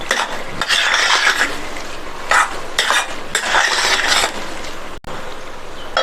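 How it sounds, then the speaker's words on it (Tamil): Roasted peanuts, fried in ghee, being stirred into ghee upma in a pan, heard as close, continuous scraping and clattering of a spoon against metal in repeated bursts with a faint sizzle underneath. "வேர்க்கடலையை சேர்த்துட்டு நல்லா ஒரு தடவை மிக்ஸ் பண்ணி விட்டுட்டு"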